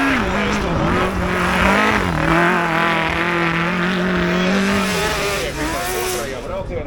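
A loud engine revs hard at a sustained high pitch while tires squeal and spin in place at a drag race start, then the roar eases slightly near the end.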